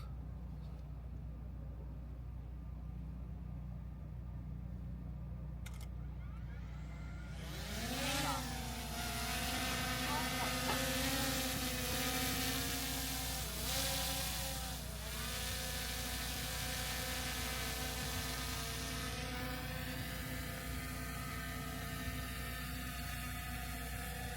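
A small drone spins up and lifts off on an automatic takeoff, then flies over the Crafton Hills fault area near Yucaipa. Its motors whine in a rising, wavering tone that starts about a third of the way in, holds steady, then eases as it climbs away.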